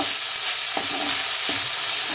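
Close, steady sizzle of small fish frying, broken by two distinct scrapes of a spatula stirring the pan.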